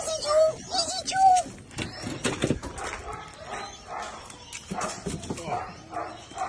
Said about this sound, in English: Who is this aggressive dog?